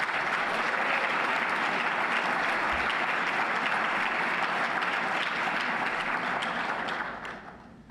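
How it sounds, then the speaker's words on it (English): An audience at an annual spring reception gives a sustained round of applause, dense and steady for about seven seconds before tapering off at the end. "let's give these outstanding community leaders a round of applause"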